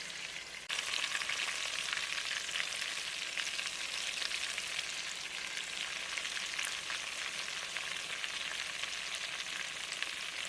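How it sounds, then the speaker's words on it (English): Oxtail meat browns in a hot pan, giving a steady, even hiss of frying and sizzling that begins abruptly and continues unbroken at moderate volume, with no voices. "I'm going to really let this meat get browned up"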